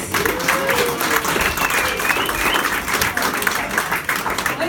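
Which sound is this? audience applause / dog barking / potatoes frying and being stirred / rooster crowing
audience applause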